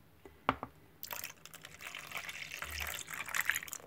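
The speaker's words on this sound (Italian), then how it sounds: "Adesso aggiungo l'acqua e poi poco per volta la farina, cercando di non far fare i grumi." Water poured into a bowl holding chopped parsley and seasonings, a steady splashing pour beginning after a brief clink and running for about three seconds, close and fairly quiet.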